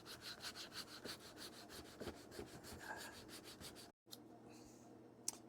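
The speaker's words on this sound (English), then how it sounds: "the first thing I want to do though is sand these stains off on the inside" Sandpaper rubs the inside of a wooden Shaker box band to remove stains. Quiet, close strokes repeat in a steady back-and-forth rhythm, then a brief pause, then a few scattered scrapes.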